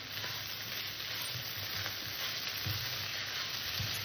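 Loach fish curry with garam masala sizzles and fries steadily in a pan while being stirred, a close, continuous hiss with faint scraping under it and no talk.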